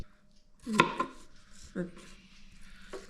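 Green apple being chopped for pickle on a board: a few sharp, close knife strikes spaced irregularly, one clearly louder than the rest, with quiet room sound between and brief low voices in the background.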